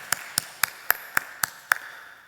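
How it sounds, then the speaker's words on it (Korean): A few people in a church congregation clap slowly, seven separate sharp claps spaced evenly and close by, with no crowd swell and no talk over them. "우리 박수 한번 쳐줍시다"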